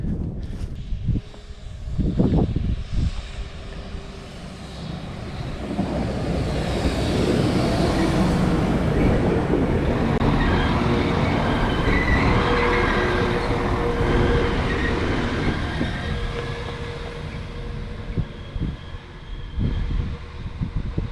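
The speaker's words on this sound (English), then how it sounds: "I think the train is coming" A train rumbles closer, its deep roar building and staying steady, then slowly easing off, with no voices over it.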